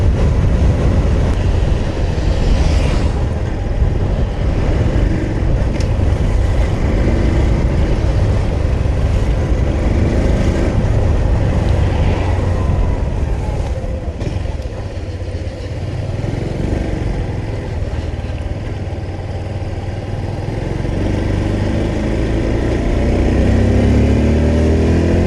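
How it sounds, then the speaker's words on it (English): A 2025 Honda Super Cub C125 small-displacement engine drones steadily while riding, mixed with heavy wind rumble, its note rising and falling slightly as the bike moves along. "Yeah, it's a nice talky little engine,"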